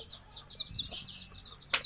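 A baby chick peeps in a rapid run of high, thin calls close by, with a louder sharp burst near the end.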